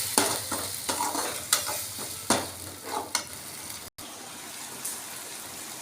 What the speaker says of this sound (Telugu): ఆ మసాలా వేసుకున్నాము. బాగా వేయించుకోవాలి ఫ్రెండ్స్.